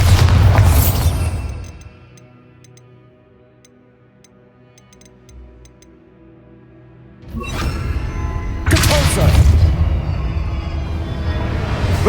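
Bombarda blasting spell in Hogwarts Legacy: a loud booming explosion opens, fading into quiet ticking, then two more heavy crashing blasts with rumbling debris follow close together near the end.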